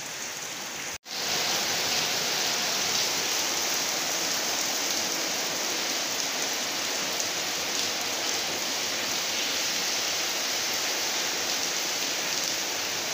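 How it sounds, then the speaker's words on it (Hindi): Steady, heavy rain pours down in a dense, continuous hiss, with a brief dropout near the start before the downpour resumes unbroken. "बहुत स्पीड ना बारिश हो रही है"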